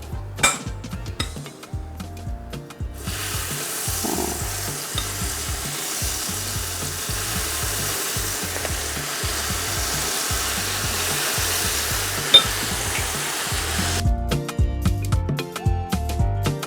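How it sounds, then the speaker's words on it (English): Akara bean cakes fry in very hot oil with a dense, continuous sizzle and crackle, close and steady throughout, with a few utensil clinks at the start and end. "So now oil is very hot. Wow, you can start frying"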